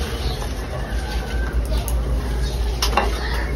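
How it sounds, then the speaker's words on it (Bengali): Cumin and garam masala frying in a pan make a steady close sizzle with a few faint clinks of utensils, and a low hum runs underneath throughout. "দিয়েছি জিরে, গরম মশলা ভাজা।"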